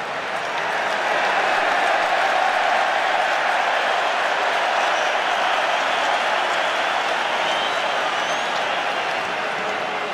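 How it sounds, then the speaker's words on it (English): A packed stadium crowd roars and cheers at a 2012 Wales vs New Zealand rugby test match, a dense, steady wall of noise that holds loud and unbroken throughout. "That's the biggest cheer we've heard from the crowd for a while."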